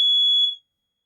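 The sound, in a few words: smoke alarm beeping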